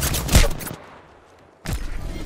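Gunfire in the shooter Apex Legends: a loud, dense burst of rapid shots at the start, a quiet gap, then another sustained volley of firing.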